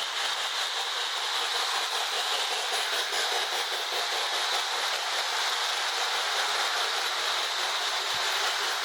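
A K-Line Hudson model train with a can motor runs along the track with a steady, quiet whir and a faint rhythmic clicking of wheels, unbroken for several seconds.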